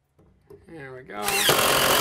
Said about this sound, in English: So let's drill our four corners now.